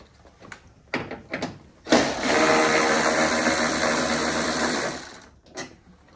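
A power tool whirs loudly for about three seconds while backing a bolt out of a Honda Civic Type R FL5 fender, with a few short clicks and handling knocks just before and after it.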